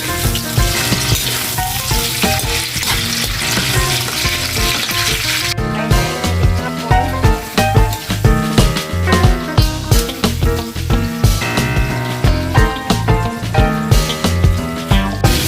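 Pork frying in its own rendered fat for chicharon, a loud, steady sizzle that turns into rhythmic bursts of spitting and crackling as the pieces are stirred.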